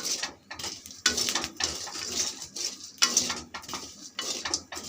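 Chickpeas roasting dry in a pan for sattu flour, with irregular crackling pops and clinks against the metal coming in dense bursts, close and fairly loud, with no talking.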